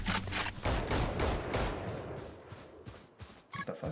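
Gunfire rings out in a Valorant match: rapid, loud bursts of shots dominate the first seconds, thinning into scattered, sharper single reports toward the end, with no talking.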